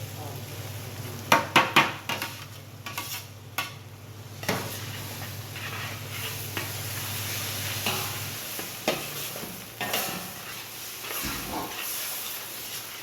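Tomatoes go into a pan of frying bulgur pilaf with vegetables and are stirred in, giving a steady close sizzle with a low hum under scraping and clanking utensil knocks, busiest early and softening later.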